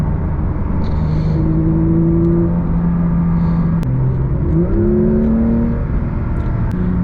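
Inside a moving Porsche 992 GT3 Touring, the naturally aspirated engine drones steadily, then its pitch climbs and shifts through gear changes under loud, constant road rumble, with no talking.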